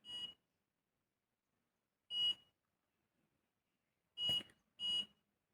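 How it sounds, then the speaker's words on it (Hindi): An automatic hair curler beeps to signal a finished curl: four short, bright electronic beeps, the first three about two seconds apart and the last two close together, with no talk. "जो ये बीप की साउंड आ रही है इस तक आपको वेट करना है"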